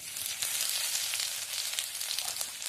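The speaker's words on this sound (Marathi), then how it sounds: "पुन्हा तेल झालं की मोहऱ्या टाकायच्या. मोहऱ्या टाकलं की लसूण टाकायचं." Mustard seeds and garlic sizzle in hot oil for a dal tadka, giving a steady hissing crackle with small pops, close but soft.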